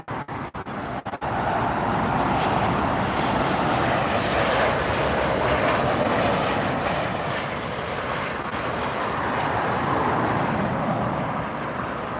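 A United airliner lands at LAX, its jet engines roaring loud and close in a broad, sustained rush that holds steady for over ten seconds after a few brief knocks at the start.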